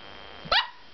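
A dog gives a single sharp bark, close and clear, against a quiet, faintly hissing background.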